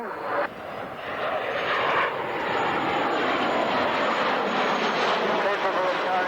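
A bomber with its bomb doors open passes low over Duxford airfield during an autumn airshow, a loud, sustained engine roar that swells and holds as it flies by, with faint talk beneath.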